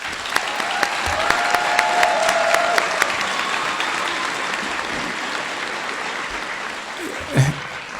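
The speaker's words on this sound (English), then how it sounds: "Let's give the nominees a round of applause." Graduation-ceremony applause for award nominees at a college campus, a steady wash of many hands clapping in a large hall with a few sharp individual claps, gradually easing toward the end.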